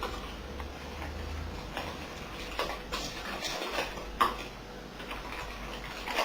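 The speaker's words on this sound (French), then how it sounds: "maintenant, on va bien mélanger pour que ça fasse une crème" A cream for an apple cake being mixed in a bowl, soft continuous scraping with light rhythmic ticks and clinks of the utensil against the bowl, close and quiet, with no talking.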